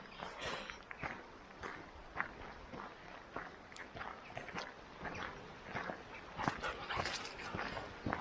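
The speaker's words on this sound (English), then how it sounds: "But they are happy dogs, aren't they?" Several happy, wet dogs near a car yip, bark and whimper in a quiet, busy jumble, with scuffling footsteps mixed in throughout.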